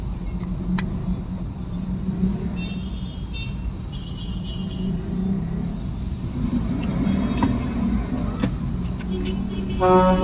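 A truck horn sounds in road traffic: short honks around the third second and a louder blast at the end over a steady engine drone, with a person talking throughout.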